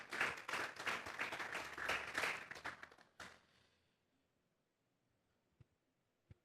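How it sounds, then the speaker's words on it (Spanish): A church congregation claps together, a dense burst of applause lasting about three seconds before quickly fading into near silence with a couple of faint knocks afterward. "Vamos a darle un fuerte aplauso pues al Señor esta tarde."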